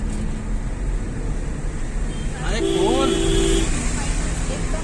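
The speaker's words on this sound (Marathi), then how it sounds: "गाडी स्लो ठेवली" A car moves slowly on the road to a hilltop temple, its low engine rumble continuous and steady, with a brief horn-like tone midway.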